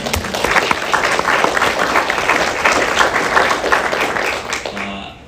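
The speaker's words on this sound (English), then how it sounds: "And you can applaud that too if you wish." An audience at a college board of regents meeting claps steadily in a dense, even round of applause lasting several seconds, then fades out near the end.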